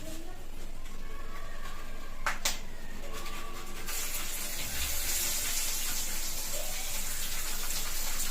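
Peanuts being washed under a running tap, a steady broadband rush of water that grows louder and fuller partway through, with faint kitchen clatter and no clear talk.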